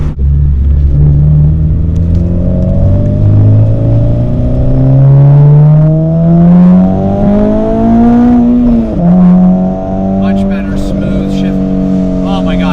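A Honda Integra Type R engine with a Skunk2 race header revs hard, its throaty pitch climbing and falling through the gears, loud and close with a raspy exhaust note.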